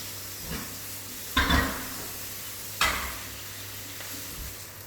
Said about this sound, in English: Okay, so here we have our shrimp. They are cooking slowly.